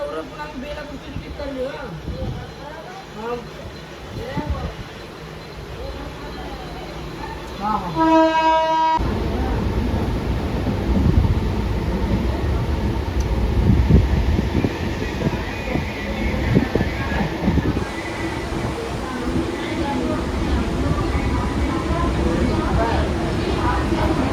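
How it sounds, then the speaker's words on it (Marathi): Inside a moving local train near Belapur, a horn toots briefly, then a loud steady rumble and rattle of the carriage runs on, with people talking near the start. "बसलो आता ट्रेन मध्ये"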